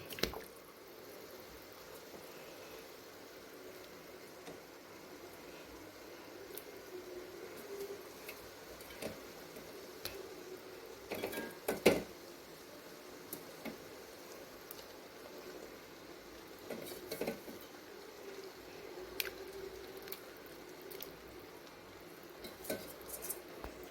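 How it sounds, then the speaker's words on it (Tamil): Fish pieces go into a simmering Tamil fish curry, which is stirred before the pot is covered. Scattered quiet clinks of a spoon and metal pot, a soft squelch and a lid knock sound at close range, with no talk. "அவ்வளோதான் மீனெல்லாம் சேர்த்தாச்சு சேர்த்துட்டு அப்படியே ஒரு டைம் அப்படியே கலந்து விட்டு நம்ம மூடியை போட்டு அப்படியே மூடி வச்சுருவோம்"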